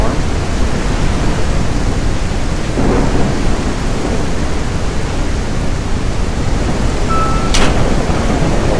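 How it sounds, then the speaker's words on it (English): A lightning storm in the video game Trailcam: steady, dense rain hiss with rolling thunder rumbling beneath it. A sharper crack lands near the end. No one speaks. "Now, come out here in this lightning storm."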